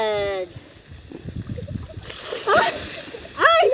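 Water splashes onto a person during outdoor cooking in a short, loud burst midway, with people's voices before and after.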